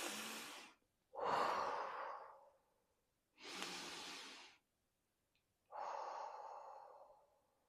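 Four slow, deep breaths taken up close while settling in, alternating long inhales and exhales with short silent pauses between them, breathy and airy.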